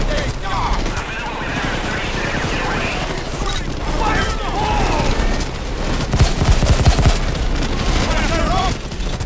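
Sustained gunfire from a PayDay 2 bank heist shootout, dense overlapping shots and booms running throughout with a louder burst near the end, mixed with talk.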